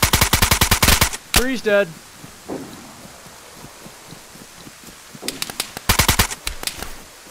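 Rapid bursts of automatic gunfire from another player in the survival game DayZ, loud close volleys at the start and again near the end, with someone speaking briefly between them amid crackly ambient noise.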